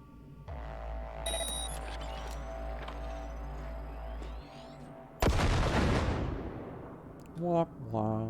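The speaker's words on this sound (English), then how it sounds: "Now, detonate the grenade." In Cyberpunk 2077 a grenade goes off as a sudden loud blast midway, following a low droning hum, with a lingering rumble and a brief electronic warble near the end.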